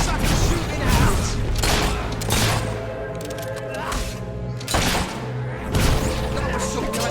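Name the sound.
fire spell cast in the video game Fable III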